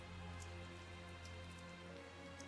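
Steady rain patter and drizzle in the Tales of Zestiria video game, a constant soft wash of drops with low ambient hum beneath, moderately quiet and unbroken, no voices.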